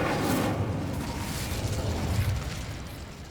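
An Incendio fire spell goes off in Hogwarts Legacy as a loud, roaring whoosh of flame with a burst at the start, sustained and dense for a few seconds before easing slightly.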